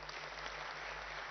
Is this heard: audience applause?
yes